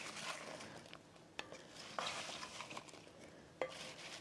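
A wooden spoon tosses skillet apples in a pan, producing soft scattered clacks and light scraping with quiet sizzle beneath, fairly faint and close.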